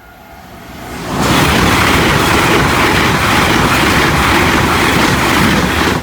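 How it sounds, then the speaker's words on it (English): The Flying Scotsman steam train rushes past a level crossing on Grove Road, a loud, broad roar that swells suddenly after a second and holds steady nearby, with no talk over it. "Here's our train."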